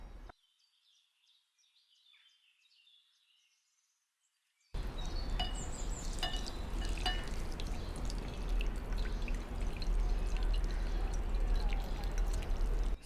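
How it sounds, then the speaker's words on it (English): Water runs and splashes over moringa leaves in a bowl as they are rinsed, starting after a few near-silent seconds and then continuing as a steady trickling, dripping wash. "we're going to wash it with some water"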